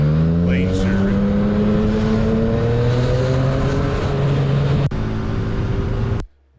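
Car traffic on a road in Portugal, heard from a motorcycle ride as a loud engine drone with rising revs and rushing wind, ending in an abrupt cut.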